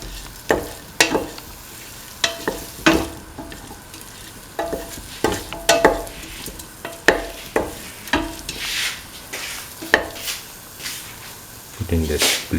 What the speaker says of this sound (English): Thoroughly mix.